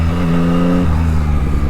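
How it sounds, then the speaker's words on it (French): A Yamaha MT-09 SP motorcycle engine revs hard on a race circuit, with a sustained loud, close engine note that holds steady and then changes pitch partway through. "on est sur la MT9 SP pour des petits tours de circuit tranquillou"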